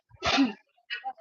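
A single loud sneeze close by, followed by a brief pause and a few faint, short vocal sounds.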